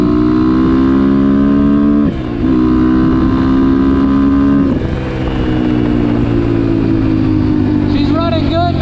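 A running 2021 GPX FSE 250 E motorcycle engine drones loudly and steadily up close, with its pitch shifting through a few revs, while a person talks over it.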